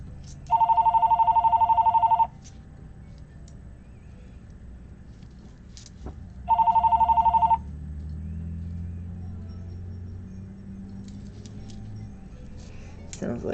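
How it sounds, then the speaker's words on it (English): A telephone rings inside a house, two long electronic trills several seconds apart over quiet room noise, with no talk in between. "Hopefully somebody will get that phone."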